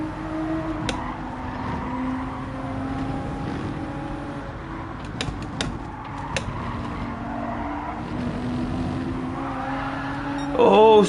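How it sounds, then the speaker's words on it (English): Race car tires skid and squeal in Gran Turismo 7, thin rising tones heard faintly in the background beneath steady engine drone, with a louder burst near the end. "Oh, skidding in the background."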